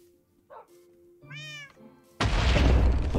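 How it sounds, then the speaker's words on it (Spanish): A cat meows once in the Minecraft video game: a clear, rising and falling game meow standing alone. A loud, sudden burst of noise follows it. "Por fin, un gato."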